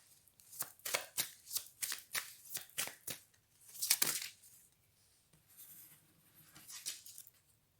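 Playing cards are shuffled and riffled near the mic in a quick run of crisp, rhythmic snaps, followed by a louder whooshing bridge and a few softer card flicks, with no talk.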